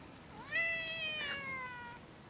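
A cat gives a single drawn-out meow with a rising then gliding pitch, clear and fairly close against a quiet background, with no talking.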